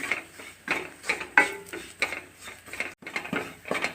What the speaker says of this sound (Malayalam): ഇനി നമുക്ക് ഈ പൊടിയുടെ പച്ചമണം മാറി വരുന്നോടം വരെ ഒന്ന് ഇളക്കി കൊടുക്കാം